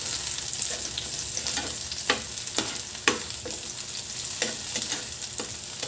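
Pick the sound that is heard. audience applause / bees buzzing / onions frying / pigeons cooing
onions frying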